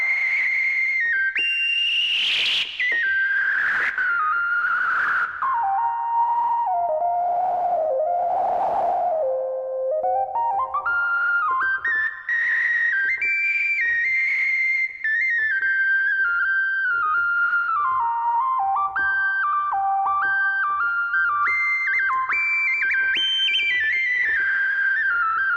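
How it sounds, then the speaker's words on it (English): A 1973 Minimoog Model D synthesizer with a little noise mixed into its tone, producing whistling, gliding pitches that swoop down and step back up over a faint hiss, close and steady without speech. "We can also introduce noise into this."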